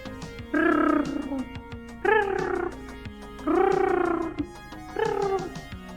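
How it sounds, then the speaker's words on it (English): A cat lets out four drawn-out, falling meows in an even rhythm, close and fairly loud, with a soft purring texture underneath. "Those are all those meows and purrs for you."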